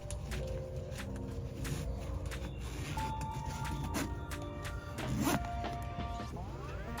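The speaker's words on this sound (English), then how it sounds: "Now we're going to connect the zipper and run it through the three sides." A zipper is pulled along the sides of a ROAM Vagabond overlanding tent in short, scratchy runs with small knocks and rustles, fairly quiet and close, with no speech.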